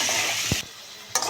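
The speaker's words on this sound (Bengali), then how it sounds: "আলুগুলো ভালো করে ভেজে নেব" Salted potatoes frying in the same oil left from frying fish: a close, dense sizzle that cuts off abruptly for about half a second, then resumes, with a low thump near the middle.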